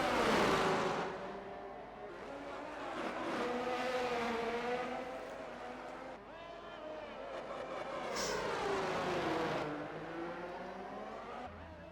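A big red Ferrari race car screams through a Monaco racing game with a high, revving engine note that climbs and dips through gear changes, loud and close throughout.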